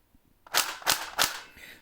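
A Heckler & Koch G36C airsoft replica rifle fires in single-shot mode indoors at a couch, giving three crisp, evenly spaced snaps close by with short pauses between them.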